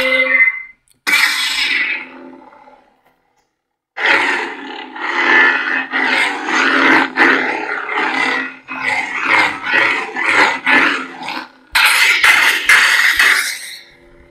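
A Neopixel lightsaber running a sound font on a Proffie board gives loud, harsh buzzing bursts and roaring swings after a brief ignition, with short gaps between surges.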